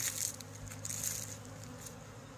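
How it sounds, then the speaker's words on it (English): Honeybees buzz around hive colonies on a roughly 50-degree day while foragers bring in early pollen. The hum is steady and fairly quiet across the whole clip, with no voices. "Bees are active today."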